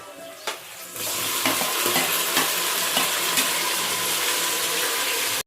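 Onions and tomatoes go into a hot pan for mushroom biryani with a sudden rush of sizzling, then a loud, continuous frying hiss broken by repeated spoon taps and scrapes until it stops abruptly.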